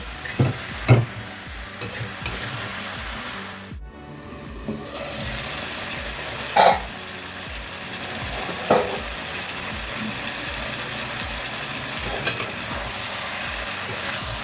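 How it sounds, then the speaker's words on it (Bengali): Cauliflower frying in a covered pan, a soft continuous sizzle with a few knocks and stirring clatters, no talking. "ঢেকে ঢেকে কফিটা ভেজে নিতে হবে"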